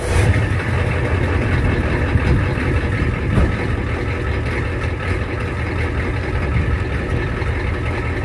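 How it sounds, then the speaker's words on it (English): A 420 cubic inch, 6.9 liter International IDI diesel, a high-compression iron-block engine, idles steadily with a dense, rattling rumble that stays close and constant throughout, with no voices. "rattling, high compression, under square, iron block of a T-Rex of a dinosaur, the 420 cubic inch,"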